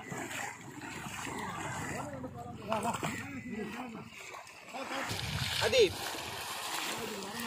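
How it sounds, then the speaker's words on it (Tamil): Fish thrash and splash inside a fishing net with irregular wet slapping bursts and sloshing water, under near-continuous talk from people. "மீன்லாம் வந்து எக்கச்சக்கமாக அடிக்குது வலைக்குள்ளே"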